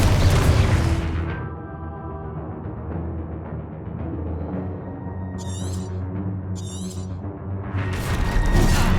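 Explosive spells cast in the Hogwarts Legacy video game: a heavy blast opens, then a low rumbling decay with ringing tones, two short crackling bursts in the middle, and a second loud burst at the end.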